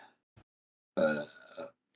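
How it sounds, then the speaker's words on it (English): A single loud, close burp lasting about a second, preceded by a faint short mouth sound in otherwise quiet surroundings. "that burp was kind of gross"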